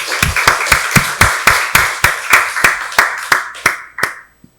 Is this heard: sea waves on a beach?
no